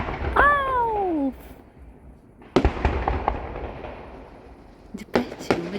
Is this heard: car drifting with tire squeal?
no